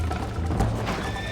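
A horse in Red Dead Redemption gives a short whinny over its clopping hooves, close and fairly loud within steady game ambience.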